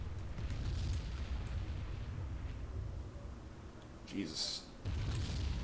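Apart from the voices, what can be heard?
tanker ship exploding in video game Silent Hunter 3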